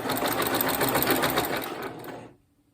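Janome sewing machine stitching a seam, a steady close rapid whir of needle strokes that runs continuously for about two seconds and then stops abruptly into silence.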